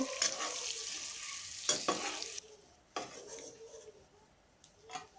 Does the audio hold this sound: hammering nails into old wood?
no